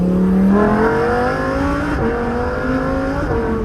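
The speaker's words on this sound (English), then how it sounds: "You see how instant those gear changes are, though?" Lamborghini Huracan Evo, a 2021 coupe, revving hard under acceleration, its engine note rising and dropping sharply as the dual-clutch gearbox snaps through instant gear changes, loud and close throughout.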